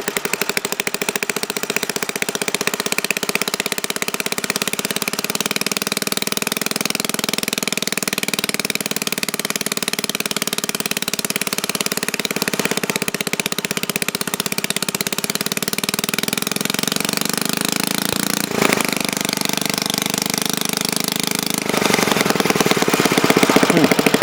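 An antique Briggs & Stratton lever-start engine under restoration, with freshly adjusted valves and a damaged carburetor needle and seat, running at high RPM: a steady, close, droning buzz that holds level throughout with one brief dip near the end.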